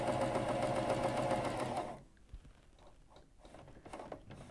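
A Janome CoverPro 1000CPX coverstitch machine sews at a fast, even whir for about two seconds, then stops, leaving quieter scattered clicks and handling noises.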